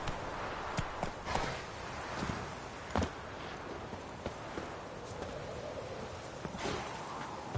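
The horse Roach galloping in The Witcher, a steady run of hoof clip-clops on the ground with sharper hits scattered through, moderately close and unaccompanied by talk.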